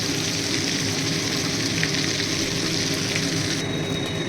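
Dried red chilli tempering crackles in hot oil beside frying tangra fish, a dense, loud, unbroken sizzle that holds steady from start to finish before dropping away abruptly near the end.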